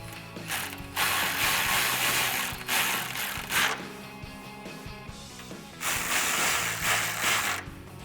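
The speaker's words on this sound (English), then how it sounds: "for these bolts, it is going to call for your 13mm socket" A ratchet with a 13mm socket turns bolts on a 2019-2022 Silverado/Sierra 1500 5.3L during a cold air intake install, giving close, loud bursts of rapid clicking separated by short pauses.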